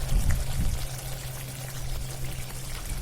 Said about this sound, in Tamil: கடைசியா கொஞ்சமா நல்லெண்ணெய் சேர்த்து இறக்கிடலாம்